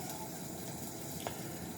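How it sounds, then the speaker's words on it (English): Steady, hissy sizzling of food frying in a pan, a continuous broadband crackle with one brief brighter pop near the end. "That's why you hear the sizzling in the background."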